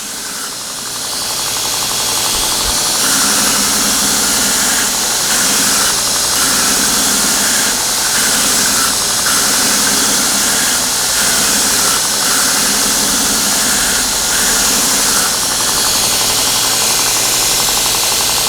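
A belt surface grinder works a part with a 2-inch wide belt, a loud continuous droning hum with a rhythmic pulsing as the belt passes over the workpiece, steady throughout.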